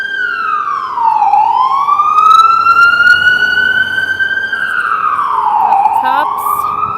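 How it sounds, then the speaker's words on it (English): A police siren wails through a winter downtown street in Calgary, sweeping up and down in long rising and falling tones, loud and close, with traffic rumbling underneath. "One sec, there's a siren."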